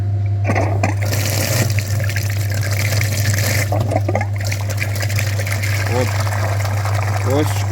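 A flushing machine pumps coolant through the cooling system of a Chevrolet Aveo, producing a loud, steady mechanical hum with liquid gurgles and trickles, while someone talks over it.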